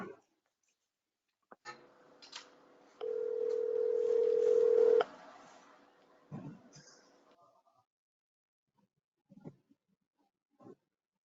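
A telephone being dialed during a township committee meeting call: a few short key tones, then a steady two-second tone, followed by scattered faint clicks and near silence.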